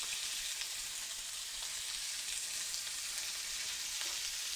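Filet mignon sears in a very hot frying pan with a continuous, fairly soft crackling sizzle at an even level throughout.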